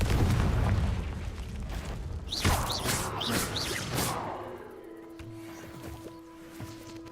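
Explosion from the Confringo blasting spell in Hogwarts Legacy, a loud booming blast with rumbling debris followed by crackling and whooshing magic effects fading into quieter game ambience with faint tones.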